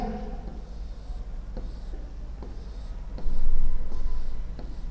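Pen or marker strokes on paper or board during an anatomy lecture on chest wall blood supply: a series of short, faint scratching strokes at irregular intervals over a low background hum.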